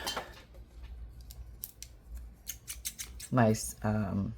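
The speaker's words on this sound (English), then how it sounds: "what are these? Fiskar. These are fabric scissors." Fiskars fabric scissors snip and clatter as they are handled close by, a few short metallic cuts and clicks, with a voice talking over and around them.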